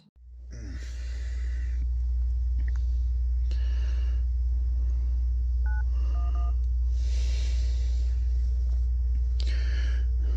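Telephone dialing a 911 emergency call, with short electronic keypad tones tapped out in separate bursts over a loud, steady low line hum, plus breathy sighs and rustling in between.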